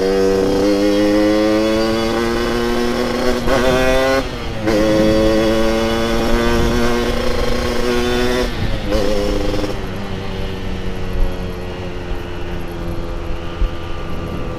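A Yamaha RX King two-stroke motorcycle with a stock engine and daily-use porting revs loud and close while being ridden, its buzzy exhaust note rising through gears with brief drops at shifts, then settling into a steadier drone.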